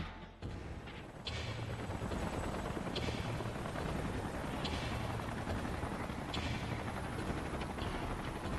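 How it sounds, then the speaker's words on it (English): Salvage helicopters arrive in the video game Xenoblade Chronicles X, a steady, loud rotor drone that fills the scene for several seconds, with rhythmic beating swells. "Let's call in the salvage choppers and get it out of here."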